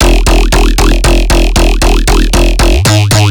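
Growly talking formant bass from Serum 2 for jump up or neurofunk, played clean without downsampling distortion, as a loud repeating series of about a dozen short pulsed notes with shifting vowel-like sweeps, alone.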